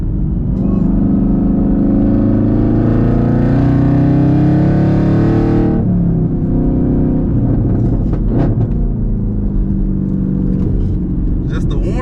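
A manual 2022 Chevrolet Camaro ZL1 V8 roars from inside the cabin on a track warm-up lap, loud and sustained as it climbs through the revs, then cuts off sharply for a shift before settling to a lower, rumbling drone.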